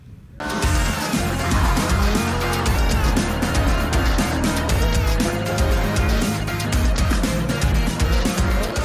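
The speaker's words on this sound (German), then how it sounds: "heulende Motoren und quietschende Reifen" Race cars at the seventh Race of Austrian Champions (ROAC) roar loudly and continuously, with howling engine notes rising and falling and tires squealing close by as several cars compete on the same track.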